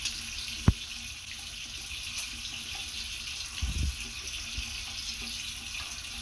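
Steady broadband rush of water running from a tap over hands, continuous and fairly close, with a few soft knocks and splashes partway through.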